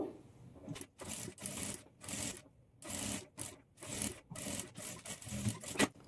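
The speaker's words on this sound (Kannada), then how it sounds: "ಈ ಕಡೆ ಎಜ್ಜಲ್ಲಿ ಸ್ವಲ್ಪ ಕ್ಲಾತನ್ನು ಎಕ್ಸ್ಟ್ರಾ ಬಿಟ್ಟು ಸ್ಟಿಚ್ ಮಾಡಿಕೊಳ್ಬೇಕು" A sewing machine stitches the lining edge of a zip-back blouse in short, rapid bursts separated by brief pauses, rather faint and close.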